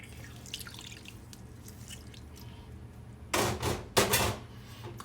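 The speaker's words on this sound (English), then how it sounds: "The juice from a half a lemon." Half a lemon squeezed by hand over a cup of Greek yogurt: after a quiet stretch, two short, close, wet squelching bursts of juice near the end.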